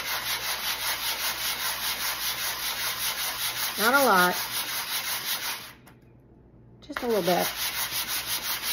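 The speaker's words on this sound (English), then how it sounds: "on the inside of the rails, I'm gonna do a little sanding again." Hand sanding on the inside rails of a wooden vintage toy truck, a steady scratchy back-and-forth rubbing that runs throughout with one short pause, while a voice briefly speaks over it.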